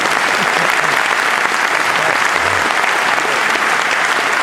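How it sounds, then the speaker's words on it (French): Audience at a cycling presentation evening applauding, loud sustained clapping from a crowd of many people with a few faint voices mixed in underneath. "Merci, on va tous les applaudir."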